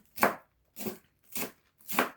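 A knife chops fresh spinach into pieces on a cutting board for creamed spinach, with four crisp, evenly spaced cuts, close and clear with no other sound.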